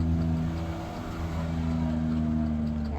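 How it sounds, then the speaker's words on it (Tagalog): Busy road traffic with cars and motorcycles hums past on a Sunday morning, a steady loud engine drone with overlapping passing vehicles and no talking. "Mga sasakyan, mga motorsiklo, ang dami."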